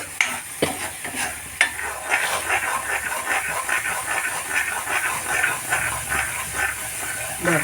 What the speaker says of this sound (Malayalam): ഇത് നാളികേര എണ്ണ കുറേശ്ശെ പിരിഞ്ഞ് വരുന്നുണ്ട്.